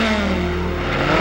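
Car engine revving in the Sega Video Driver game, a steady, loud, continuous motor drone with no one speaking over it.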